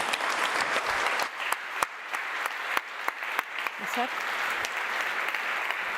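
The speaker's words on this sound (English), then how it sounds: "sort of give everybody a round of applause, please?" An audience applauds at the close of a panel discussion at an international forum on adaptive social protection, with steady, moderately loud clapping and sharp individual claps throughout.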